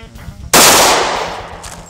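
A single loud gunshot fired at a BulletSafe bulletproof vest, a sharp crack with a long ringing decay outdoors.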